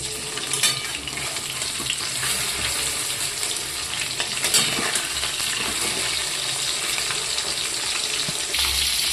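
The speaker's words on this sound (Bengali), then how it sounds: "তেল গরম হয়ে গেছে, আমি মাছগুলো দিয়ে দিচ্ছি।" Sarputi fish, some with roe, sizzling and spitting in hot oil, a steady dense crackle with a few sharper pops, close and fairly loud with no talking.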